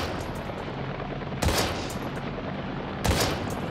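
Two sharp gunshots fired at zombies in the survival horror game Daymare: 1998, spaced about a second and a half apart over a steady low background drone, with no talking.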